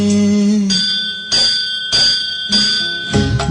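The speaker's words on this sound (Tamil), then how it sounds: "கோயில் மணி ஒலிக்க" A Ganapati temple bell rings in repeated strikes roughly every half second, with bright, sustained metallic tones layered over devotional music.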